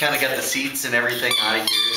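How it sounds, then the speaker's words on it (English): High, whiny squeaks from a dog come and go under someone talking close by. "that's my dog squeaking"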